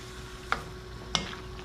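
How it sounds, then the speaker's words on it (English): Cashew pork ingredients sizzle steadily in a hot pan while two brief scraping stirs cut through the frying hiss. "Okay, let's mix it. Mix it really good so all of the ingredients would"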